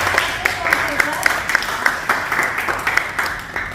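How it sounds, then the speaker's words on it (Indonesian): A classroom of students claps for a group after its presentation, with distinct individual claps standing out in a fairly quick rhythm against a smaller, thinner patter and a little background voice. "beri tepuk tangan untuk kelompok"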